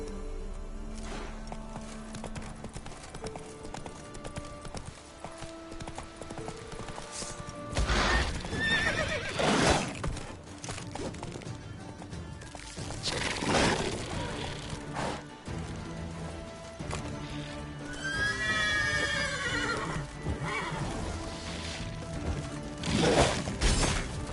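Roach the horse in the Fortnite video game whinnies loudly and shrilly several times over a steady clip-clop of galloping hooves, with crashing and smashing effects now and then.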